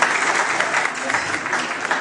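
Steady applause from a gathered audience at a scout event in Mauritania, dense clapping filling the whole stretch without letting up.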